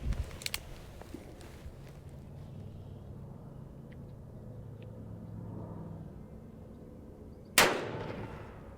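A Ruger Vaquero revolver fires at a paper bullseye target: a few sharp cracks at the start, then quiet rumbling ambience before one loud, close shot near the end.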